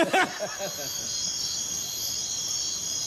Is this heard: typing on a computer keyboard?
no